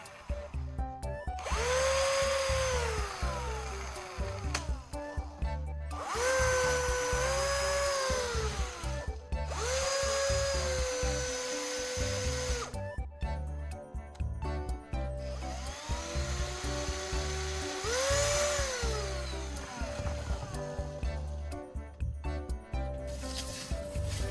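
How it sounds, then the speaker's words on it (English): A power drill spinning a wooden-stick knife sharpener whirs loudly in several bursts, its pitch rising and falling as it spins up, holds, and winds down between short pauses. "I'm going to attach the extra end of the wooden stick to a drill"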